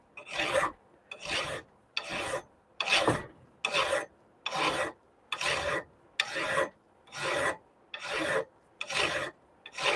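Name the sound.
hand filing with a rasp file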